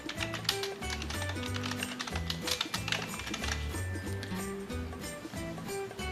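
Rapid keyboard typing clicks over steady background music, the taps quick and irregular.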